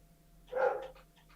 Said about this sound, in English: and now there's a dog